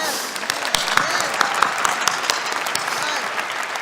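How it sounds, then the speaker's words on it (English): A crowd at a celebration event claps steadily in dense, sustained applause, with a few sharper individual claps standing out; no talking over it. "Can we get an applause for that?"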